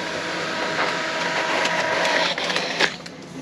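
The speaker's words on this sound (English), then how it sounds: "I'm just going to click start color, and then it'll scan and copy." An HP OfficeJet 250 portable all-in-one printer scanning and copying in color gives a steady mechanical whir with faint clicks and a brief louder clunk near the end, close by and alone.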